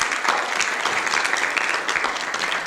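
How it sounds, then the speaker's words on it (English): A roomful of people at a youth workshop claps steadily, a dense, even wash of applause that holds at a consistent level throughout. "let's give Diane a big round of applause"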